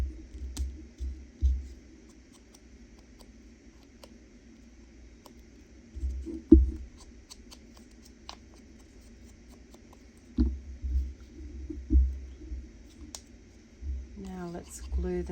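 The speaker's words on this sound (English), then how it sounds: "just going to ink the edges" Paper edges are dabbed and rubbed against an ink pad while making pocket tucks. Soft, dull tapping and brushing comes in short bursts, quiet and close over a low steady hum.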